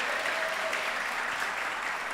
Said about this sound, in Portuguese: Quem crê nisso, aplauda Ele mais forte que você puder.